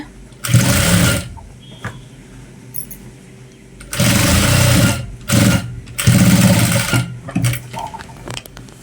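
A sewing machine stitches a uniform shirt in several loud, close bursts of rapid whirring, with short pauses between runs.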